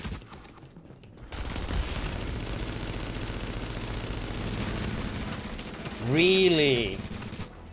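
Gunfire in The Division video game, dense rattling volleys of shots over several seconds, with a brief spoken remark at the start and a rising electronic tone near the end.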